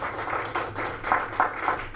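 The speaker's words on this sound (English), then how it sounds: "Round of applause for Art, being the number one." An audience claps in a steady round of applause at a NARPM meeting in Tucson, Arizona, moderately loud in a room, with rhythmic overlapping claps swelling and continuing throughout.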